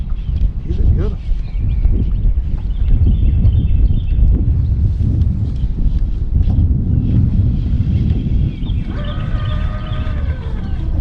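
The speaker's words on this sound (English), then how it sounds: "Got a wind blowing in here." Steady wind buffets the microphone on a boat out on Lake Murray, a constant low rushing roar that runs the whole time, while someone talks over it.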